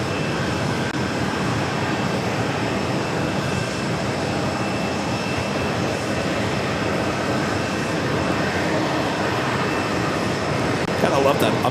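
A JetBlue Airbus A320 roars loudly and steadily in a broad engine rush at JFK, sustained throughout with little variation.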